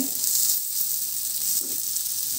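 Slices of pointed gourd (potol) sizzle steadily in hot oil in a pan, a close, even frying hiss with no talk.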